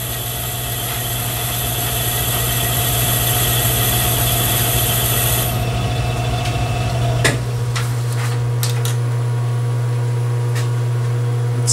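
A metal lathe takes a light trial cut while turning a carriage stop thimble: a steady motor hum and whine runs throughout, the high tone drops away midway, and a few sharp clicks follow.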